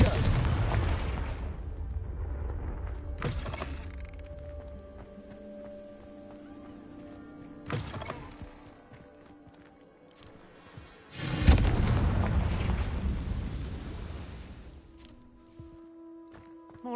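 Fire-blast spell explosions go off in the Hogwarts Legacy video game: several deep, loud booms with crackling tails, spaced a few seconds apart, the biggest blast near the end, with no speech over them.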